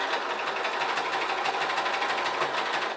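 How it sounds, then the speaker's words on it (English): A sewing machine runs a straight stitch through a thrifted blanket, sewing a flat-felled seam and catching appliqué flowers, its fast steady whir and needle rattle continuous and close throughout. "I'm sewing a straight stitch, making the flat filled seam and catching the flowers at the same time."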